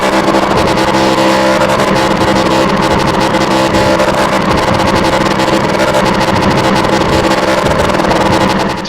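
Race car in the iRacing sim doing victory donuts at Kern County Raceway Park after an ARCA Menards Series race, engine droning loud and steady throughout with constant revving and tire noise, no voices.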